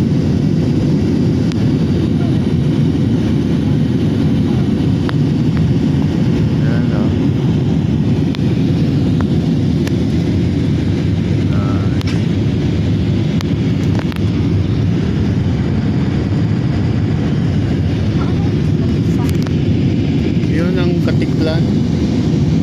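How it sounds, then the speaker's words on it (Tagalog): Flight PR2132, an airliner climbing out of Bacolod-Silay airport toward Manila, heard from the cabin as a loud, steady engine roar and airflow rush for over twenty seconds, with faint voices now and then. "500 meters ang taas ng lipad ngayon ng eroplano"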